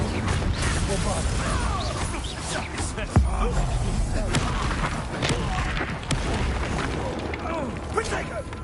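A Bombarda blasting spell in Hogwarts Legacy sets off booming thuds and crashes over busy game sounds, with one sharp, heavier impact standing out amid continuous rumbling action.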